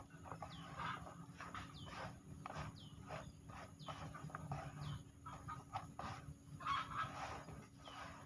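Chickens at a farm feeding time, with short clucks and bird calls scattered over a steady low rumble of background noise, moderately faint and continuous.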